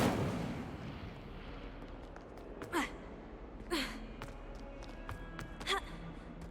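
In the Hogwarts Legacy game, an Incendio fire spell is cast three times as short whooshing fiery bursts spaced about a second apart, over a faint, low ambient background.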